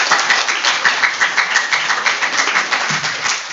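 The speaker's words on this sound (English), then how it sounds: "Give him a round of applause" A small university class claps in a short, rhythmic burst of distinct, close hand claps, moderately loud and without talk.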